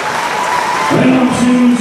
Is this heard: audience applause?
yes